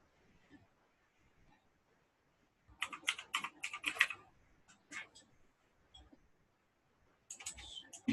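Quiet clicking of fingers typing on a computer keyboard, coming in bursts of rapid keystrokes with short pauses, fairly close and soft, with faint speech in the background.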